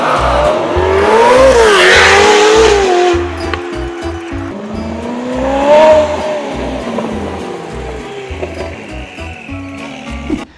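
A Ferrari F8 Spider fitted with a full IPE exhaust, high-flow cats and a Stage 2 tune revs loudly and close, its pitch rising and falling through several sweeps, with a steady low rumble underneath.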